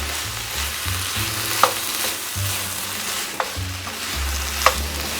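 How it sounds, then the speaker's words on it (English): Ingredients stirred through a hot pan for a buffalo chicken pasta bake, with a steady close sizzle and low rhythmic scraping, plus three sharp spoon taps against the pan, no speech. "Now we're just going to stir this in, just to coat it."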